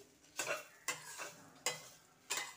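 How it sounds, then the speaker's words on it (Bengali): Ginger and green chili frying in a pan, stirred in four rhythmic scraping strokes over a faint sizzle, close but quiet, with no talk. "এখন একটু নাড়াচাড়া করে জল দিয়ে দেবো।"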